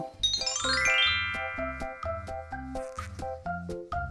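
A magical bell chime effect rings out as a cascade of bright, tinkling bell tones, repeated in quick rhythmic strikes over a soft low accompaniment, clear and fairly loud with no talking.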